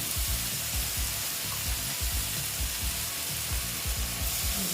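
Tomatoes frying in a pan for a Bengali egg curry, a steady close sizzle with soft stirring scrapes repeating through the whole stretch, with no one talking.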